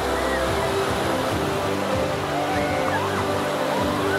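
Floodwater rushes from the full-flowing Tupran lake after rains in a loud, continuous roar of churning water, close and steady, with faint crowd murmur beneath.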